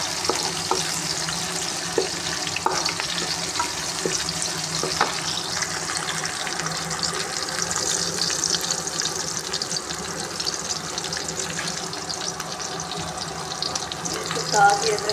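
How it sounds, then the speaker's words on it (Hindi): Onions browning in a pan give a continuous close sizzle and frying crackle, with some stirring and water noises mixed in. "इसके अंदर मैंने प्याज डाल दिया। अभी इसको थोड़ा सा ब्राउन करूँगी।"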